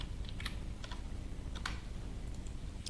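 Quick, irregular keystrokes on a computer keyboard tick along at close range while working in Microsoft Word, set against a steady hiss of background noise, with no voices.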